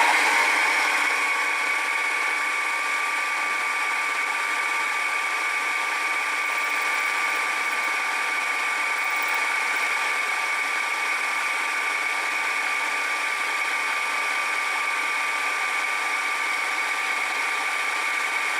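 Metal shaper machine cutting a gear at about 800 RPM, giving a steady, even mechanical whine and hum with strong tonal ringing that holds unchanged for the whole stretch, no voices present.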